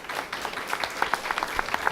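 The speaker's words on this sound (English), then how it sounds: "Give a round of applause." Scattered audience applause at a community meeting, a modest crowd clapping unevenly with a few sharper individual claps standing out over a steady patter.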